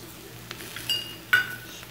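An egg is added to potato rösti in a frying pan, giving a couple of short clinks of utensil against pan amid faint kitchen background, with no sizzle standing out.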